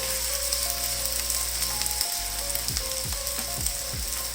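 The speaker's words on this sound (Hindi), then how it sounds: "और यहाँ पे देखें जी ऑयल गर्म हो गया है, इसे मैं ऑयल के अंदर डालती हूँ।" Keema kebab patty frying in hot oil, a dense steady sizzle and crackle lasting throughout, close and continuous with no talk.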